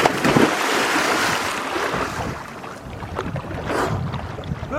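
Someone plunges into a cold, clear lake and swims, loud splashing and churning water up close with bursts of sloshing as strokes move through it.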